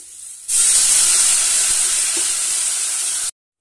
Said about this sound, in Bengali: আমি এবার জল ঢেলে দিচ্ছি।